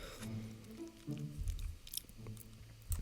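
Close, moist chewing of a spoonful of food, with soft squishy bites repeating unevenly over a low background hum and no talking.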